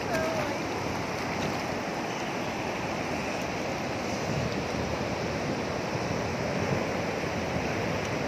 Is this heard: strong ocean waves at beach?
yes